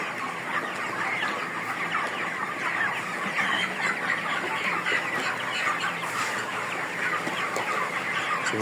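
Sonali chickens on a poultry farm cluck and chatter continuously, a dense flock murmur filling the space with no voices.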